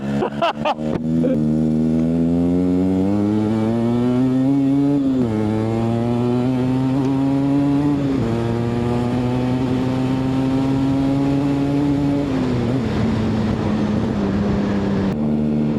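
Yamaha RX115 two-stroke motorcycle engine revving hard nearby, a buzzy high-pitched exhaust rising and falling through several throttle blips and sustained high revs, loud and alone without talk.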